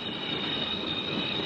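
A train in a 1967 spaghetti western braking to a stop: a steady, high metallic squeal of wheels over a continuous rumbling roar, moderately loud and unbroken throughout.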